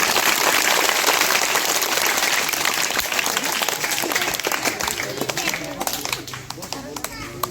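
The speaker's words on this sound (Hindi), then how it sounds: "जोरदार ताली" A school crowd gives loud, sustained applause after a talk on education and the constitution. The dense clapping sits close and continuous, with children's voices and chatter mixed in as it begins to thin.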